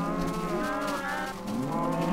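Cows moo in the Minecraft video game: a close, loud, drawn-out bovine call that wavers in pitch, heard alone.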